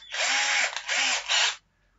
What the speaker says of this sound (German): Und das bohren wir auf 7 mm. Also sprich, 7 mm Bohrer.